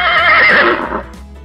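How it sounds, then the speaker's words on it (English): A horse's loud neigh from a kids' learning game, a close, quavering whinny that trails off after about a second, with no talking. "Great job. It's a horse."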